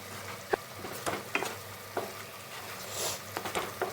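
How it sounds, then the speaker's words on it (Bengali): Spice paste with turmeric frying in a pan for a vegetarian potol dish, a constant close sizzle broken by scraping stirs and small clinks, with no one talking. "আমি এখন মশলাটাকে খুব ভালো মতন কষিয়ে নেব"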